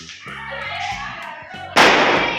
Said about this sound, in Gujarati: અને દિવાળી છે, બાર ફટાકડા ફોડી રહ્યા છે.